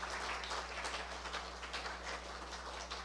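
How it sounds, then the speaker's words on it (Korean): A church congregation claps together, a soft, dense patter of many hands from a distance over a low steady hum. "박수 한번 쳐주실 텐데,"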